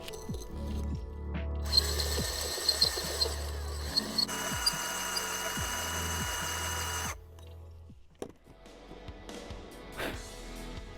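A drill grinds steadily into a planter pot in two long stretches, boring a drainage hole, with faint ticking clicks underneath, then stops and trails off into quieter handling sounds.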